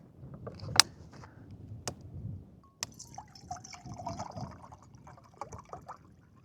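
Water trickles and pours into a cup in short bursts, with a few sharp clinks and drips, close and fairly quiet.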